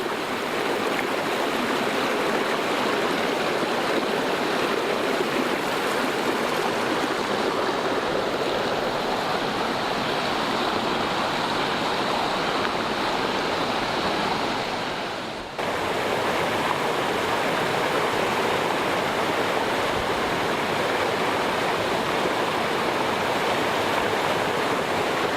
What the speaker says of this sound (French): Regardez ces ruisseaux.